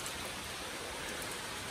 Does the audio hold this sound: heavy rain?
yes